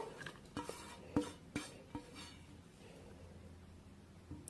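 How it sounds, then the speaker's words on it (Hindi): Washed lachha strands being moved into a kitchen vessel, heard as a few soft clinks and rustles early on that fade into a quiet room. "अब हम क्या करेंगे, इसको एक बर्तन में ट्रांसफर करेंगे अपने लच्छों को"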